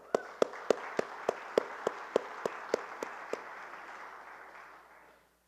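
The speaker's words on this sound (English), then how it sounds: "let's just have a quick round of applause for getting the Managers Forum back up and going" Applause from a room of attendees at the CTWEA Managers Forum, with one close, steady clapper landing about a dozen evenly spaced claps over a softer wash of crowd clapping that fades out after about four seconds.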